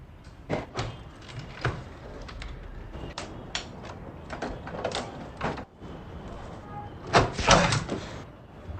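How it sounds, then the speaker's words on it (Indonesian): Someone repeatedly forces and rattles a stuck door, sharp thuds, clunks and sliding scrapes arriving in irregular bursts, with a heavier cluster of bangs near the end over faint background noise. "Lalu dia kembali mencoba membuka paksa pintu itu"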